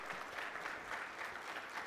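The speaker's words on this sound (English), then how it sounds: "Let's give a round of applause to all of our military personnel." A crowd applauds military personnel in a steady, continuous wash of clapping that holds at an even level throughout, with no single claps standing out.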